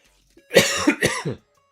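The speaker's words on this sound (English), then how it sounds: "Sorry for coughing in your ear." A person coughs in two or three harsh, close bursts within about a second, loud and isolated, with a throat-clearing quality and no other talk.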